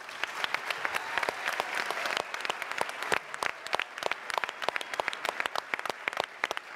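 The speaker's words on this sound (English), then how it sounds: "let's have a round of applause first for John, Harish, and our project debater" An audience applauds at a debate event for IBM Project Debater and the human debaters, with dense steady clapping that thins toward the end into scattered individual claps.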